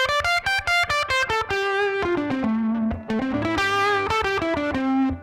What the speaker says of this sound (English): I can play like right here, minor pentatonic